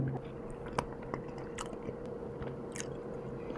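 Close, steady chewing and soft crunchy bites of canned fish, with scattered clicks and squishes over a faint continuous hum.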